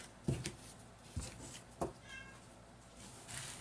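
A house cat meows several times, short calls with quiet pauses between them, close by in a room where tags and hanging charms are being sorted.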